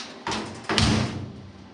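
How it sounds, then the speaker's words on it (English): The door of a 1930 Ford Model A Tudor swings shut gently, with a light first contact followed by a firmer solid thud and a short decaying rattle, close by and clear. "I don't even have to close it that hard"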